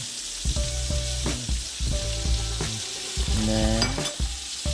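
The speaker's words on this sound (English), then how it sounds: "so I'm just going to put the butter in first" Butter melting in a hot pan for cooking freshly caught menpachi fish, a steady close sizzle and bubbling running throughout, with someone speaking over it.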